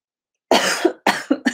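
A person coughs close up, with one harsh cough followed after a short pause by two or three more quick rough coughs.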